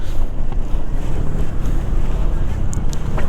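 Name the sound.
strong wind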